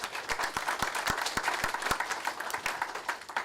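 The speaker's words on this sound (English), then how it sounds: "So round of applause" Scattered applause from a small audience at a woodworkers' guild meeting, welcoming new members; uneven claps with a few sharp, distinct hand strikes standing out over a broad patter, moderately loud throughout.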